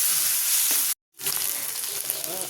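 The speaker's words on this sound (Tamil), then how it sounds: "எடுத்து வச்சுருந்த தக்காளியை ஆட் பண்ணிக்கலாம்" Tomatoes sizzle loudly in a hot pan while an egg gravy is cooked, with a steady bright frying hiss broken by one short gap before the sizzle resumes.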